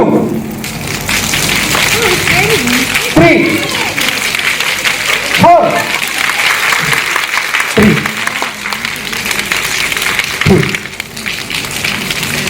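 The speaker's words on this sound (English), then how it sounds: "All of you clap with 1 finger like this. Fast." A crowd claps rapidly with one finger each, light pattering strokes making a steady rain-like hiss, while a voice counts aloud over it at intervals, at an education forum in Kolkata.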